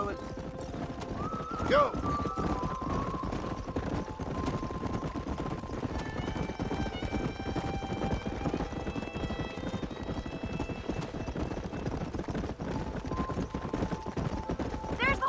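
In a video game, steady clip-clop of horse hooves trots along throughout, with a horse whinny early on and voices calling out over the rhythmic hoofbeats.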